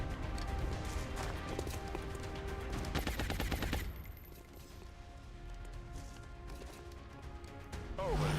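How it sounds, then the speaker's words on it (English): A grenade blows open a wall in the video game XCOM Long War: sharp crashing and gunfire-like bursts build to a loud blast around the middle, then fall back to a quieter tail. "So it wasn't the best grenade, but it did open up the wall."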